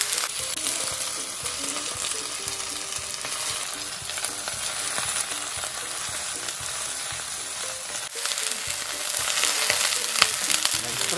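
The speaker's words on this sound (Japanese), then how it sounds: "これぐらいしっかりと焼き目つけます。" Food searing in a hot frying pan gives a loud, dense, continuous sizzle up close. It swells briefly near the end as the pieces settle.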